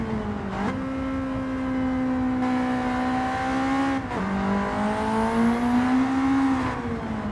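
A turbocharged car engine in a racing video game drones from the cockpit view, revving and holding pitch through gear changes with brief dips, steady and fairly loud with no talking.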